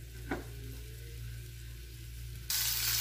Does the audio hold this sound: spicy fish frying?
yes